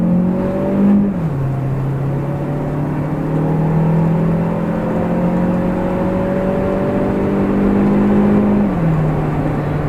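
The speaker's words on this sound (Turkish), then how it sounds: "Kalkışta çok fazla teker sardı nedense arkadaşlar." An LPG-fuelled Chery Tiggo 8 Pro accelerates hard from a standstill, its engine whirring loud and steady as the pitch climbs, drops briefly at a gear change and climbs again, with no talk over it.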